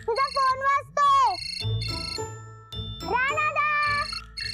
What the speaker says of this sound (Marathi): तुझा फोन वाजतोय.